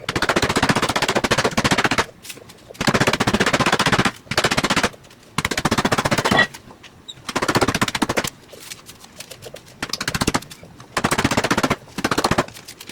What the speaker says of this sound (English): I don't have a meat tenderizer, so I'm just going to use my rolling pin